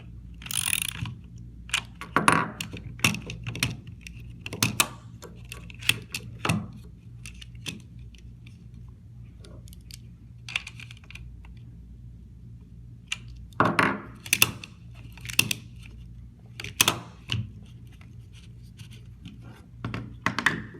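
Posi-Tilit FaceRest handle mechanism being tightened, giving scattered clicking and ratcheting mechanical snaps in irregular bursts over a low steady hum, fairly close and moderately loud.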